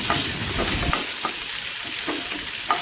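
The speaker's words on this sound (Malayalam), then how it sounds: "ഇനി നമ്മളിതിലേക്ക് രണ്ട് രണ്ട് കറിവേപ്പില ഇട്ട് കൊടുക്കാം" Curry leaves hit hot oil for an okra curry, giving a steady loud sizzle with a few sharp crackles and stirring scrapes, no voices.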